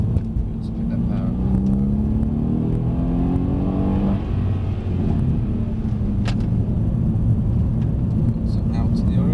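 A Mercedes-Benz C63 S accelerates on a driving-experience track, its engine a loud continuous low rumble rising in pitch, heard from inside the car with people talking over it.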